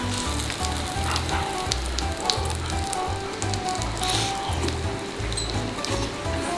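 Food boils and sizzles on a hot mookata grill, a dense, continuous crackle and bubbling heard up close with no voices over it.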